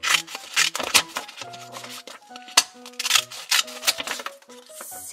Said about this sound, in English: Let's use it to cut a page.